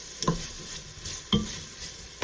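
A soft, continuous sizzle from a hot pan for keto Zuppa Toscana soup, broken by three quick spoon scrapes about a second apart.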